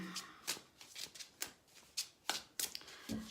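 A Starman Tarot card deck shuffled by hand, giving repeated riffling bursts and soft slaps of cards in an irregular rhythm, close and clear with no voices.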